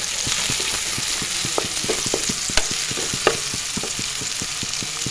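Onions, garlic and green chilies fry in a pan with a constant bright sizzle, while a regular series of spatula taps and scrapes stirs them, loud and near throughout.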